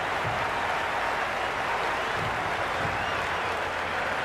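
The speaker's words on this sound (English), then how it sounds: "There's an almost tangible fervour throughout the crowd at the moment." A stadium crowd roars in the Cricket 26 video game during a Mumbai Indians IPL career-mode match, a dense, steady wash of cheering and applause that holds at an even level throughout.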